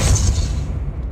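In Hogwarts Legacy, a Depulso force spell lands with a short, heavy, booming thud, loud and close, fading within a second.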